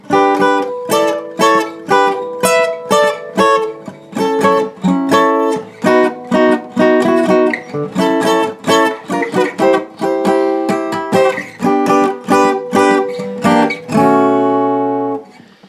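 Electric guitar solo from a song, played as a lesson demonstration: a lively run of picked single notes and short phrases, close and clear with no talking, ending on a sustained ringing note.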